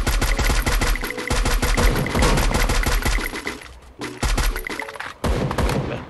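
Rapid automatic gunfire in the Free Fire battle game, loud and close, with long strings of shots in quick rhythm broken by a few brief pauses.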